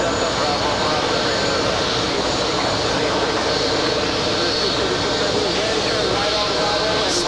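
A Qantas jet airliner in 100 years of Qantas livery roars steadily at JFK airport, a loud, continuous engine rumble with a hiss throughout.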